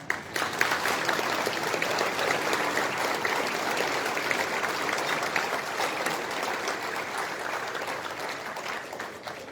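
Sustained, even applause from a crowd at a business breakfast welcoming a guest speaker, dense and steady for the whole stretch with no break.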